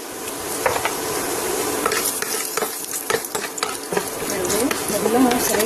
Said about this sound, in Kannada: ಶೇಂಗಾ ಸ್ವಲ್ಪ ಕೆಂಪಾಗಬೇಕು, ಉದ್ದಿನಬೇಳೆನೂ ಸ್ವಲ್ಪ ಕೆಂಪಾಗಬೇಕು, ಅಲ್ಲಿ ತನಕ ಫ್ರೈ ಮಾಡ್ಕೊರಿ